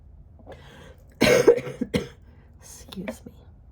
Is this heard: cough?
yes